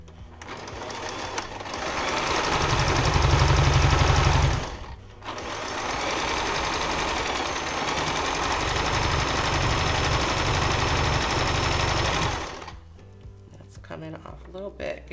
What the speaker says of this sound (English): So now you're ready to sew the 3 rows together.